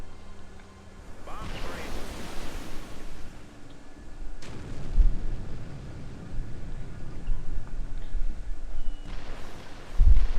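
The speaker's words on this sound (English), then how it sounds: "you're going to watch the dropships shoot it up" Dropships firing and explosions in the video game Haze: heavy booming blasts and gunfire burst loudly at intervals over a constant roaring battle din, with a sharp final blast near the end.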